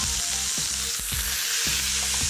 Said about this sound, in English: fry that thyme. I want to hear it.